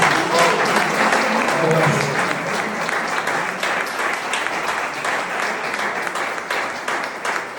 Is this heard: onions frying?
no